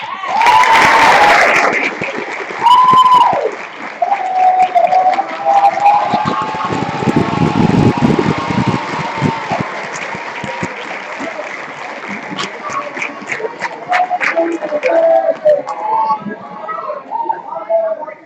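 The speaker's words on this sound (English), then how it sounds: "My hands hurt from clapping." Audience applause at a high school senior awards ceremony, swelling in bursts with scattered cheers and whoops, while a voice talks over parts of it and the clapping tapers toward the end.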